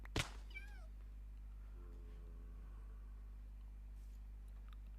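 A cat lets out a single clear meow right at the start, close and loud, followed by a faint higher chirp, then only a steady low electrical hum with a few soft distant sounds.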